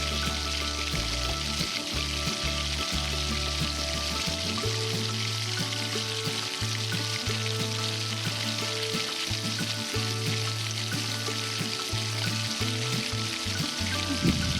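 Spices and soy sauce frying and being stirred together in a tiny miniature pan, giving a steady close sizzle with low rumbling tones underneath throughout.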